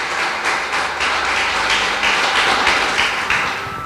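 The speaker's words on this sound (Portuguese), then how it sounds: "Dê uma linda salva de palmas ao nosso Rei" Church congregation applauding during a worship service, loud and close, a steady crowd clapping that swells in rhythmic bursts roughly twice per second across the whole stretch.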